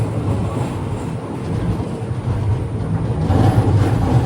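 The Boat Mail Express sleeper train pulls out of Rameswaram railway station, a steady rumble of carriages rolling on the rails with rising clatter as it gathers speed, heard from inside the train with no voices.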